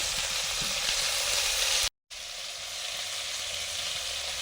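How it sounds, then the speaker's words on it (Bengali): Potatoes for chops sautéing in mustard oil with turmeric and ginger, a steady close sizzle and fry that cuts out briefly near the middle before carrying on evenly. "চপের আলুগুলো কষে নেব"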